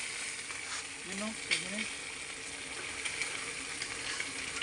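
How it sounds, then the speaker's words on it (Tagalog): Pork fat frying into chicharon in a pan, with a steady bright crackling sizzle that holds even throughout while someone talks briefly over it. "Pamamantikaan to hanggang Maging chicharon."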